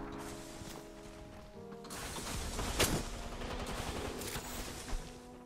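Gunfire in Apex Legends crackles as quiet, rapid bursts of shots under game sounds, with a couple of sharper louder reports standing out.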